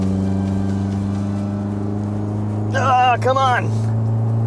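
Mitsubishi Evo X engine held at full throttle climbing a hill, a steady loud low drone throughout, with a man's brief frustrated words breaking in over it near the end.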